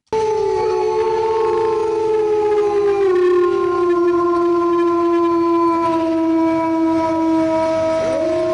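Wolf howling in one long, loud, sustained wail with rich layered harmonics, its pitch sliding gradually downward over about eight seconds with no voices present.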